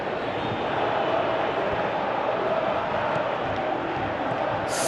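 A football stadium crowd sends up a broad, loud, sustained roar of massed voices that holds steady the whole time without a clear peak.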